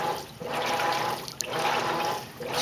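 A Maytag Centennial HE top-load washer churns clothes in soapy water, giving soft, steady sloshing and swishing in gentle waves, fairly quiet and close.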